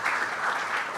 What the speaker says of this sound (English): Please give applause to Pak Tia